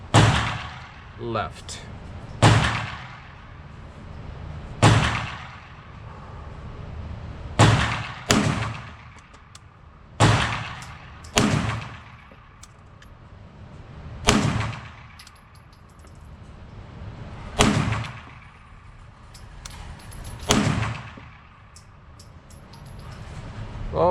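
Sharp, loud pistol shots from an HK VP9 firing MagTech ammunition, about a dozen cracks spaced a second or more apart with echoing tails, and a brief spoken word among them.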